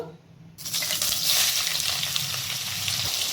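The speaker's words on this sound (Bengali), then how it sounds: "এরপর সয়াবিনগুলোকে আমি 5 মিনিটের মতো মিডিয়াম টু লো আঁচে ভেজে নেব।" Soybean chunks drop into hot mustard oil in a wok. A sudden, loud, close sizzle starts after a short quiet moment and keeps up as a steady, bright frying hiss. There is no talk.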